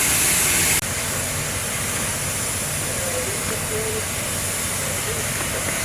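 A Grand Canyon steam locomotive, freshly refitted, hisses steadily and loudly as it prepares to move, a continuous broad rush of steam with a brief sharper burst at the start.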